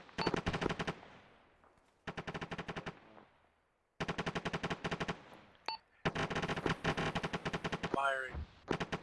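Automatic gunfire in an Arma 3 squad training session, sharp rapid bursts of a machine gun repeating in separate volleys roughly every two seconds, with a brief voice near the end.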